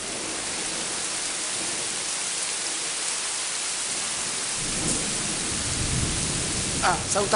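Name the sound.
thunder and rain during a summer thunderstorm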